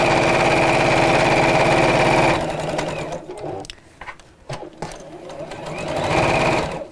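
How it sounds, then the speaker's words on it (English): A sewing machine runs fast as it stitches around the edge of a fabric bag, a loud, even mechanical drone that goes on for over two seconds. It then slows into uneven bursts and stops and starts, before speeding up again near the end. "So sew all the way around, but I'm going to leave a turning gap in one side."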